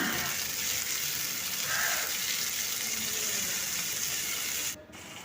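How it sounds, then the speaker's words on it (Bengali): Chopped onion and tomato frying in oil in a pan for a Bengali cauliflower and rohu fish curry, giving a steady close hiss that holds evenly, then drops in level near the end. "দিয়ে দিলাম পেঁয়াজটা তেলের সঙ্গে মিশিয়ে একটু ভেজে নেব"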